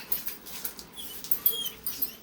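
A puppy stirs around 6:40 in the morning, giving off faint, scattered yips and scuffling patter in short irregular bursts against a quiet room, with no talking.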